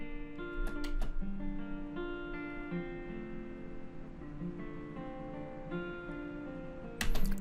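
Trap beat guitar melody shifted up an octave in FL Studio, a plucked melodic line playing at moderate level over a low bass bed, with a brighter burst near the end; no talking.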